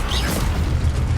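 An Incendio fire spell cast in Hogwarts Legacy on PS5: a short, loud whooshing burst with a low rumbling boom and a brief rising shimmer, filling the whole moment up close.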